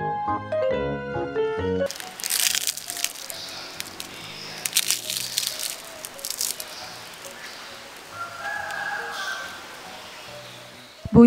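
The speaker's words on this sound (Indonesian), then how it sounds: "Bunyi kriuknya renyah banget ya" Crisp, close-up crunching of a fried banana fan fritter (pisang goreng kipas) being bitten and chewed, a dense run of crackly bites after a short musical opening.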